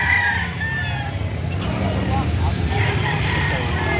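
Chickens at a livestock auction cluck and crow in a busy, noisy setting, with several birds calling at moderate distance under constant crowd murmur and nearby talk.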